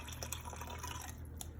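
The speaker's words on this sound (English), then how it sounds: "I'm gonna add about a half a cup of water." Half a cup of water trickles into the braising liquid for Hawaiian-style roast pork, a faint, steady pour with light dripping throughout.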